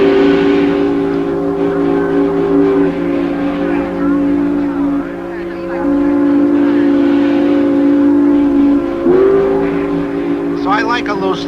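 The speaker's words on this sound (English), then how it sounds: "Those whistles. Have you ever heard a sound like that in your whole life?" Steam whistles blowing in long sustained tones at a ticker tape parade in Manhattan, loud and layered over crowd noise, with one whistle shifting pitch near the end.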